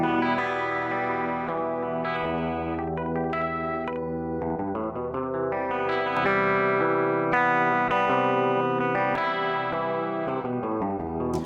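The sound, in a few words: spatial chorus audio effect mixed across three dimensions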